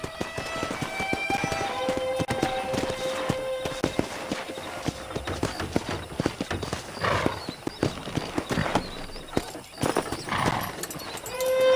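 Rapid clip-clop of horse hooves at a gallop in the video game Red Dead Redemption, close and continuous, with a horse whinnying and snorting along the way.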